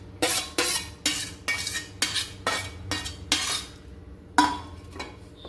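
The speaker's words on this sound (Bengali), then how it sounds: "ভালো করে মিলিয়ে দিচ্ছি।" A spoon rhythmically scrapes and knocks around a bowl, mixing a sweet banana fritter batter with grated coconut, fennel and cardamom: about nine close, regular stirring strokes with no talking.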